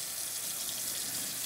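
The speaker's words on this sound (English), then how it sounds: "A little warm water." Warm water runs steadily from a sink tap in a continuous, even hiss, heard alone and up close while an Oven Copper Crisper is being washed.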